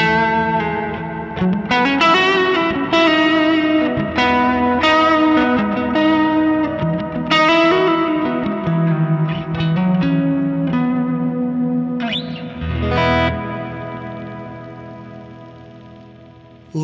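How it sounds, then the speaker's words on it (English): Electric guitar chords and single notes played through a large church-style reverb setting on a Sonicake Matribox multi-effects unit, each note ringing into a long, spacious wash, with a pitch bend near the end. "expansive church reverb there"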